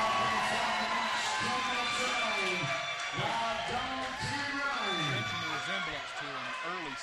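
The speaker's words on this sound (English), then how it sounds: "Crowd getting into the action." Wrestling crowd at a PWA Battle Bowl show cheering and shouting in a steady, loud roar, with a commentator talking over the noise throughout.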